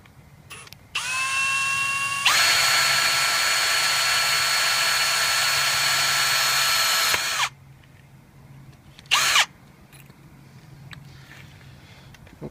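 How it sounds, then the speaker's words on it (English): A power drill fitted with a metal bit bores a hole in plastic: a short whir, then a steady high-pitched whine held for about five seconds, followed by a brief second burst after a pause. "Now I'll switch the drill bits over to my metal bit."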